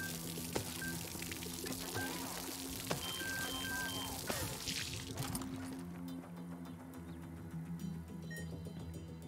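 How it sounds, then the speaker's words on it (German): Water poured to cool a knife in the shooter game Far Cry 6, a steady pouring rush with trickling and dripping, fairly close and moderately loud over a low game ambience, thinning out in the last few seconds. "Ich kühl das Messer am Wasser runter."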